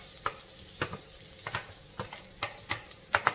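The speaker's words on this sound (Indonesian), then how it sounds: "kita langsung aja tumis bawang merah, bawang putih" Shallots and garlic sauté in a pan, soft sizzling under a series of sharp scraping clicks from stirring at a quick irregular rhythm, close by and moderately quiet, no voices.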